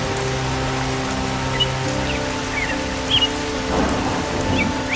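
Steady rain falling in a cartoon village scene, a continuous hiss of drops on surfaces with a low tonal background music bed and a few faint chirps, no talk.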